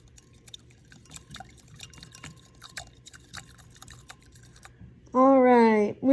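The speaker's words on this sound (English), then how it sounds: "Take my stirring stick, mix for about 20 seconds." A stirring stick mixes Miracle-Gro into water in a beaker, making rapid light ticks and clinks against the glass for several seconds, before a voice briefly speaks up loudly.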